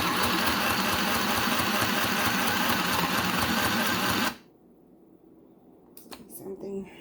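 A small green sewing machine stitches a seam with a close, rapid, steady mechanical whirr and clatter for about four seconds, then stops abruptly, leaving quiet handling noises.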